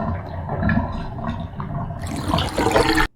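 Bloody water gurgles and rushes out of a bathtub drain in the horror game Jisatsu, a steady sloshing flow that swells into a louder, brighter gush before cutting off abruptly.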